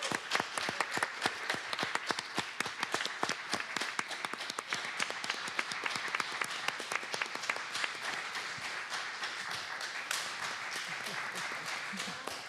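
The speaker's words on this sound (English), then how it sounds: "That was a long clap, too." Long, sustained applause from a city council chamber audience after a bill passes, steady crisp clapping that continues evenly for the whole stretch at a moderate distance.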